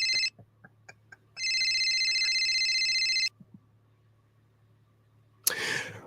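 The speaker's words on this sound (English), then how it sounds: "So to give it aesthetics, I got a little phone ringing." A telephone ringtone sound effect on a podcast: two bursts of electronic ringing, one short and one lasting about two seconds, separated by quiet, followed by a brief noisy rustle.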